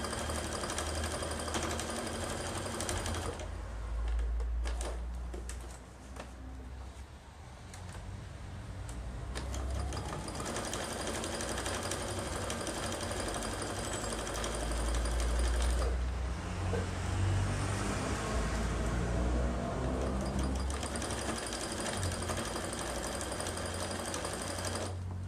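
Sewing machine stitching all the way around the edge of a fabric notebook cover, a steady mechanical whir that runs in long bursts with brief pauses and slight changes in pace, close and fairly loud, no talking.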